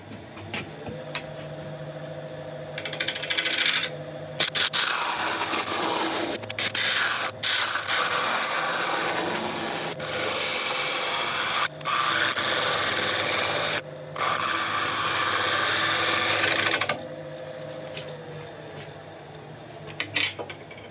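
Wooden bowl spinning on a lathe at about 800 RPM while a gouge cuts down its sides, giving a steady, close scraping rasp with short pauses between passes, and no talking.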